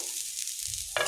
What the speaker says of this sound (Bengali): আলু ভাজা এখন করছি